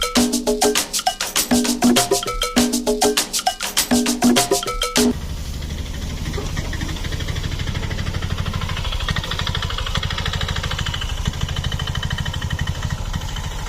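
An auto-rickshaw engine running while paddy is threshed, first a loud, fast rhythmic clatter of the machinery for several seconds, then a steadier engine drone with a faint repeating tick.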